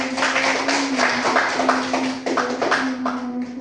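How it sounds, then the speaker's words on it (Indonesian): Group 4 in a networking class gets a round of clapping, dense overlapping hand claps sustained throughout over a steady hum. "silakan berikan tepuk tangan kepada kelompok 4"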